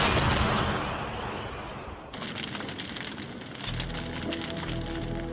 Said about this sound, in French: Un canon de 400 mm monté sur rail a ravagé la ville.